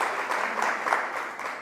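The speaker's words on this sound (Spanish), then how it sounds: "le demos un aplauso a ellos también" A church congregation claps briefly in a short, moderately loud burst of steady applause.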